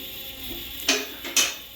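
Dannmar M6 vehicle lift lowering onto its safety locks, giving a few sharp metallic clacks over a low mechanical hum, close and distinct.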